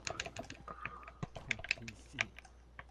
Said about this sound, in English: Why do you have a keyboard connected to your Xbox?